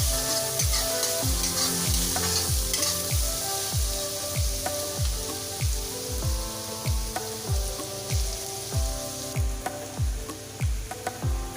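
Onions frying in a pan, with a continuous bright sizzle and rhythmic spatula strokes roughly twice a second under quiet background music, no speech.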